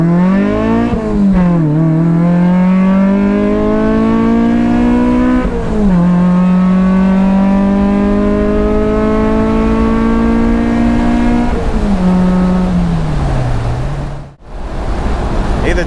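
A car accelerating hard through the gears on a drag run, with a loud, close engine note rising in pitch, dropping at each shift and climbing again, steady wind and road roar underneath for the whole run.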